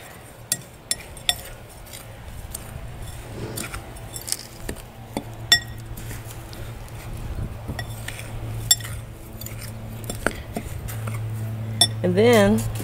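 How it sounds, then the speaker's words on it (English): A utensil scrapes and clinks against a bowl while sugar, salt and ginger are mixed together, giving scattered sharp taps over a quiet background, and a voice speaks in places. "I'm going to mix these dry ingredients up."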